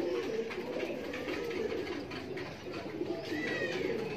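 A golden teddy pigeon with a ring coos steadily and softly in a continuous murmur, close by against a noisy background hum.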